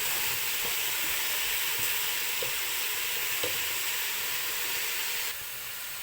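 A tuna and vegetable pasta sauce simmers in a pan as vegetable stock is stirred through, making a steady close sizzle and hiss with a few faint knocks from the stirring and no talking.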